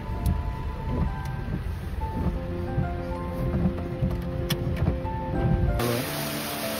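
Heavy rain in Konkan during flooding, a loud steady hiss of rain on surfaces with scattered sharp drops and tones, continuing without any talk.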